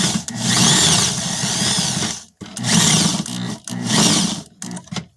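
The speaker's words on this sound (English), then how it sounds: "Just drill in." A power drill driving screws while assembling a desk whirs in three long bursts separated by short pauses, loud and close, each run holding a steady motor whine.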